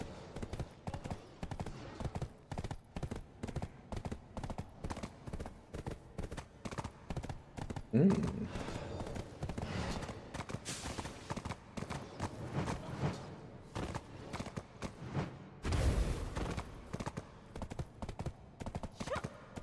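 Horse hooves clip-clop steadily in the video game Black Desert, a fast, even rhythm of close, crisp hoofbeats running throughout, broken briefly by a couple of louder bursts of impact noise.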